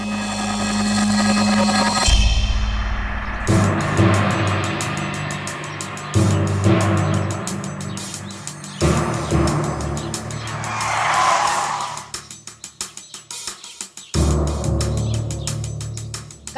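A car pulls away hard with loud tyre skids, engine roar and squealing rubber in repeated bursts over about sixteen seconds, set in a village crime drama scene.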